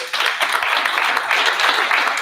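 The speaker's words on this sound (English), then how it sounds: "I think that deserves a round of applause" A leadership summit audience breaks into a round of applause, a steady wash of many hands clapping at moderate loudness that holds without pause.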